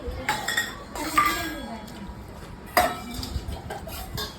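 Spoons and dishes clink during a home meal in a few scattered, bright metallic taps at close range, mixed with soft background voices and household noise.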